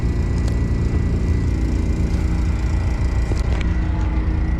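A vehicle engine runs steadily outdoors in -20C cold, a continuous loud rumble with a couple of brief clicks and no clear rise in revs.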